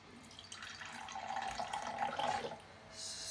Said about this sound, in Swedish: Ska vi hälla upp lite liksom, just för att se, tänker jag.